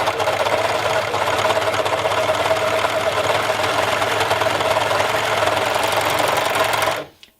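Singer Overlock 14SH654 serger stitching along a fabric edge while its knife trims, a steady rapid mechanical whir and clatter held loud and close for about seven seconds before stopping abruptly.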